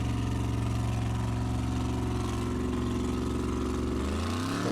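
A formula offroad car engine running at full throttle during a competition run, a loud, sustained droning roar with steady harmonics that drop away sharply near the end, heard alone.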